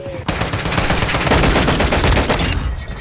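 Rapid, dense gunfire from a video game pistol: loud, close shots fired in a near-continuous stream for about two seconds, then cutting off sharply.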